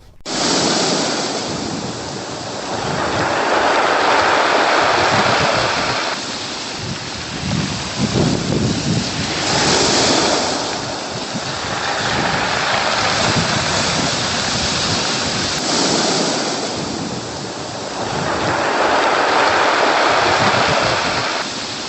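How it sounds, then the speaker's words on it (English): Waves wash over the rounded stones of the Yaquina Head cobble beach, a continuous roar that swells and recedes in slow surges, close and loud, with no voices. "The following sounds are the actual sounds of the Yaquina Head cobble beach"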